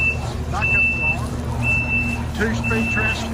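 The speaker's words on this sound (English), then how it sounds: "Backup alarm." Backup alarm of a 2023 Kubota SVL97-2 track loader with forestry package, a steady repeating series of high beeps over a low idling engine, with a voice talking intermittently under it.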